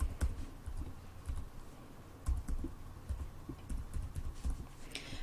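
Fingers type a library card number on a computer keyboard, a quick irregular patter of soft key clicks running steadily for several seconds with brief pauses, close and moderately quiet.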